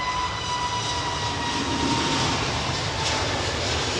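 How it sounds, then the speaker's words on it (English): Jet airliner engines roar at maximum thrust at London Heathrow Airport, a loud, steady, broadband roar with a high whine that stays constant throughout. "Maximum thrust setting on some of these jets, man."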